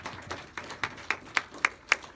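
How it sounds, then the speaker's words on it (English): Sparse clapping greets young award honorees at a community recognition event. A few hands clap in a steady, slightly quickening rhythm of distinct, fairly faint claps, each standing apart from the others rather than merging into full applause. "Big round of applause for each and every one of them"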